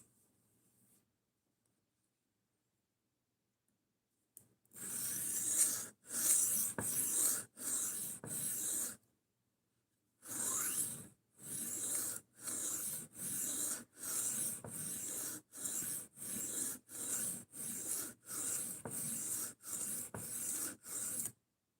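A knife blade is drawn across a sharpening stone while being reprofiled, making rhythmic gritty rasping strokes, about fifteen in regular back-and-forth bursts after a short quiet start and a brief pause midway, close and clear with no talk.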